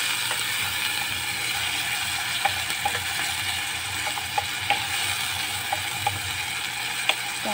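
A utensil stirs adobong sitaw, string bean adobo, in a pan, giving soft scraping and light clicking taps over a steady sizzle, close and moderate in level, with no talking.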